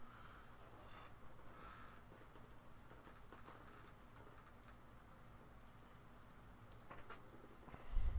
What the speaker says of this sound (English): Is it raining? Oh, hey, it's raining.